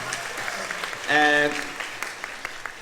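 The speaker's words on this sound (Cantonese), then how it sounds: "俾啲掌聲" Soft clapping from an audience at a school music contest final runs steadily in the background while a voice briefly cries out in the middle.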